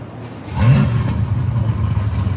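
Loud car nicknamed Thumper, exhaust cutouts closed, giving a quick rev that swells and then drops to a rumbling idle, heard up close with no talking.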